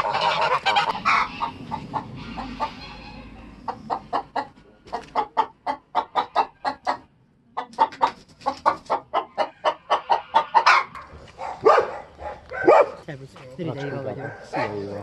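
Geese honk in a rapid run of loud, close, repeated calls, with people talking at the start and end and a dog-like bark mixed in.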